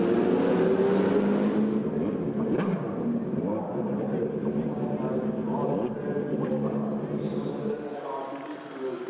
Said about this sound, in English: the cars set off on the pace lap